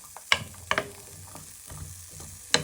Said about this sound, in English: So you just want these to sizzle for 3 to 5 minutes.